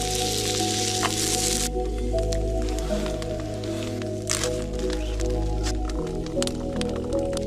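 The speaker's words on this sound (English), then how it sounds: "Poured the hot water in my plastic cup." Hot water is poured into a plastic cup while camping in a snowstorm, with a steady hiss and sizzle broken by sharp cracks and pops from the cup, close and continuous.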